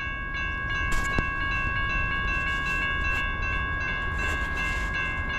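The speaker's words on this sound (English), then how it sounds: "First train of the day." CSX manifest freight train, westbound on a cold early morning, rumbling past steadily at close range with constant low roar and sustained high tonal whine, a brief clank near the start, no talking.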